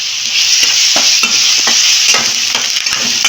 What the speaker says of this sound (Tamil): இஞ்சி பூண்டு பேஸ்ட்டு நல்லா வதக்கி வச்சு